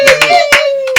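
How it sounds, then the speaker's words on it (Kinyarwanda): Celebration audience claps in a few loud, rhythmic strokes, close and sharp, over a sustained tonal hum. "mashyi mubahe n'impundu di"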